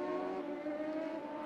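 An IndyCar race car at Mid-Ohio during the 1996 CART Miller 200 comes down the hill, its engine a sustained high-pitched whine, steady and fairly distant.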